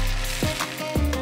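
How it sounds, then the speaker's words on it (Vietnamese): Rice noodles frying in plenty of hot oil in a pan, a dense, steady sizzle with crackle, close and fairly loud, punctuated by a couple of brief knocks. "Bây giờ chúng ta sẽ cho những cọng hủ tiếu vào chảo để chiên."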